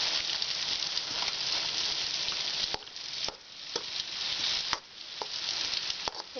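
Beetroot with salt sautéing and sizzling in a pan, a continuous close frying hiss broken by a few sharp scrapes and knocks of a spoon as it is stirred.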